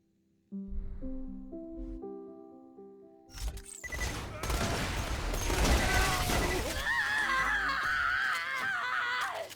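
Pirate-themed gun in Borderlands 2 firing a skull-and-crossbones spread of many projectiles, heard as loud overlapping blasts and crackling bursts that swell into a sustained barrage after a short musical intro.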